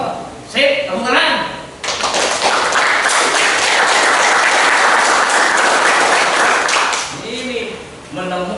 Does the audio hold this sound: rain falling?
no